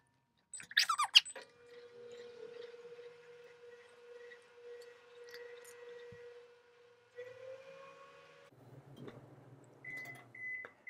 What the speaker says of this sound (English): Let's put it in the microwave